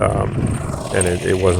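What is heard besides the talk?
No everyday noise stands out behind the speech.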